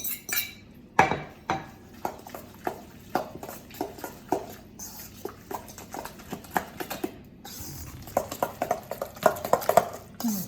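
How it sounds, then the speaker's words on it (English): Silver beet and spinach being mixed into a mixture in a bowl, with repeated uneven knocks, clinks and scraping taps of a utensil against the dish, close and fairly loud, with brief pauses. "We can mix in our silver beet and spinach now."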